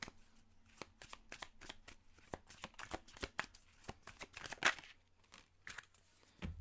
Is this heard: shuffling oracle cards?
yes